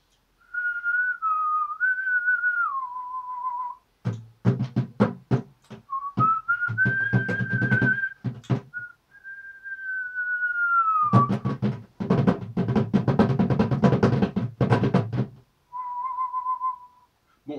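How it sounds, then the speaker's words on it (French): A person whistles a melody alone, sliding between sustained notes, with bursts of rhythmic tapping or clicking breaking in between phrases. "on peut se contenter de siffler"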